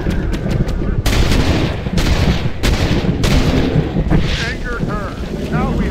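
Gunshots are fired at a bear in Red Dead Redemption. The loud, close shots are spaced irregularly and cut through wind and outdoor ambience, with a character's voice heard briefly.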